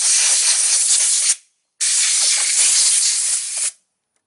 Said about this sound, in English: I'm just going to blow these off with an air hose.